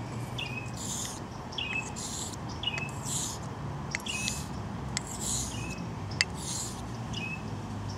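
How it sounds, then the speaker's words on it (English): A bird chirps in repeated short, bright calls roughly every second, fairly close and clear over steady background hiss, with a few sharp clicks mixed in. "Why don't you shut up, you damn bird?"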